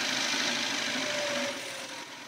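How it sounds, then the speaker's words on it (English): An electric motor module running in reverse in first gear gives off a steady, close mechanical whir with a faint tonal hum, holding even before easing slightly quieter toward the end. "we're going to turn on the accelerator again, and we're going backwards"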